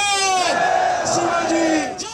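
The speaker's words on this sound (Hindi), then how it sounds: "जंतर मंतर की भीड़ तो आप लोगों ने देखी होगी।" A protest crowd at Jantar Mantar in Delhi, rallying over reservation reform, raises loud massed voices in drawn-out chanted cries that swell and fade together, close and continuous.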